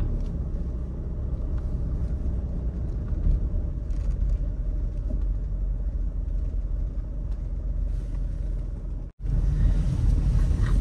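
Cars creeping in a single-lane queue at a toll road exit near Jogja during holiday traffic, heard from inside a vehicle as a steady low rumble of engine and road noise, with a brief dropout near the end.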